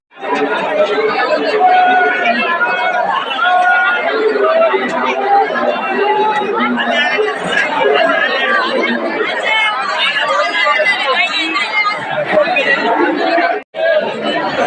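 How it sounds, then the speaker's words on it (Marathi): Dense crowd of pilgrims chattering at the Jejuri Khandoba temple, a loud, continuous babble of many overlapping voices filling the whole stretch with only a brief dip near the end. "पूर्ण तुफान गर्दी बघू शकता इकडे आणि खूप सारे गर्दी खूप सारे जण आलेत"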